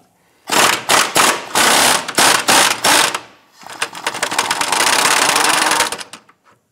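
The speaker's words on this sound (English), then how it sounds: "use an 18mm socket and extension, go ahead and remove the upper shock bolt" An 18mm socket on an extension driven by a power tool to remove the upper rear shock bolt on a 2008-2013 Nissan Rogue: loud, close, rapid rattling bursts, then a longer continuous run.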